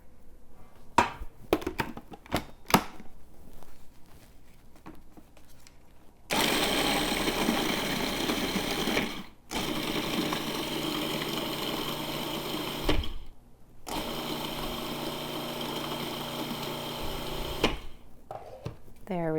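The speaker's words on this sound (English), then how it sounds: "I'm actually going to run this through the food processor just for a quick whirl in order to fully crumble all of this" Food processor crumbling freeze-dried eggs into fine powder, whirring loudly in two bursts separated by a brief stop, with quieter handling sounds and some talk before it starts.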